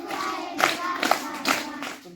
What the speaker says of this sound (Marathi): तुमच्यापेक्षा माझ्या एकट्या टाळ्या वाजत.